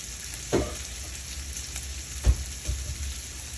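Bacon fries in a pan over medium-high heat, a soft, steady sizzle broken by a few faint clicks and taps.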